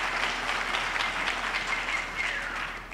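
Audience applause for a choir at a university graduation ceremony, a steady wash of clapping held at an even level for about three seconds, tapering slightly at the end.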